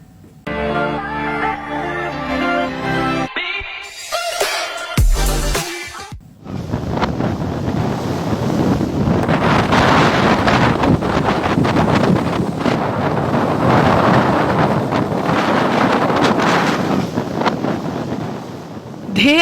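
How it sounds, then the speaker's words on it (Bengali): Strong gusty wind and rough sea waves during Cyclone Remal on the coast at Rangabali, Patuakhali, a loud continuous roar of wind buffeting the microphone over crashing surf, after a brief stretch of music at the start. "দমকা বাতাসে উত্তাল হয়ে উঠেছে সমুদ্র আর আছড়ে পড়ছে ঢেউ"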